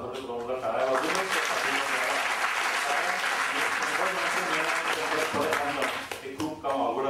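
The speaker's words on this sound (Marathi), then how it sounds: "ह्याच्याकरता आपण मनसोक्त टाळ्या वाजवून" An audience claps enthusiastically at an interview event, a sustained burst of applause that swells quickly, holds for several seconds and tapers off near the end.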